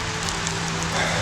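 Rain falls steadily in a dense hiss of patter, with a faint low hum running underneath and no voices.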